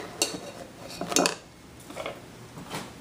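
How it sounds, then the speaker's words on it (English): A utensil clinks and scrapes against a crock while stirring homemade herbal soda. A few distinct taps and clatters sound close by, spaced out over a quiet background. "then stir it up"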